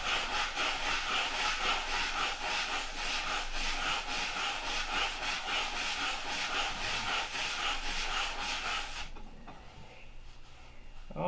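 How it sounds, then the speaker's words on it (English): Wood is sanded by hand in a steady, close rasping rhythm of quick back-and-forth strokes for about nine seconds, then it stops and only faint handling remains. "Keep sanding."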